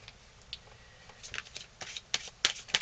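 Tarot cards being shuffled and handled, a close, crisp run of riffling flicks and soft taps that grows busier toward the end, heard alone with no talk.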